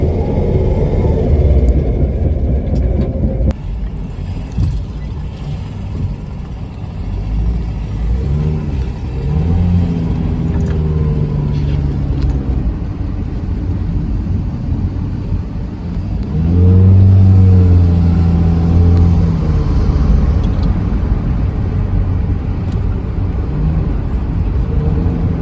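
A 1964 Ford Falcon with a V8 engine drives along, its deep engine rumble steady throughout and swelling into a louder rev and acceleration midway before settling back into a cruising drone.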